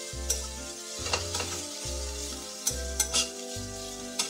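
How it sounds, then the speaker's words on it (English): Shrimp ravioli leftovers and vegetables sautéing in a little oil in a pan, a soft sizzle under repeated stirring, with a low rhythmic thumping pulse and sharp scraping clicks of a utensil against the pan. "we're gonna go ahead and saute or fry this for just a little bit, like 5 minutes or less"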